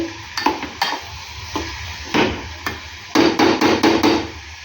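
Carrot halwa being stirred in a pan, with repeated scraping and clanking knocks of a spoon against metal, bursts of a few seconds each, close and fairly loud, over a faint sizzle and no talk.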